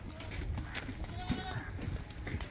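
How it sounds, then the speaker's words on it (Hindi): Goats bleat intermittently at a goat farm in Bhiwandi, moderately close amid background chatter as people talk over them. "लाल कोटा बकरी है।"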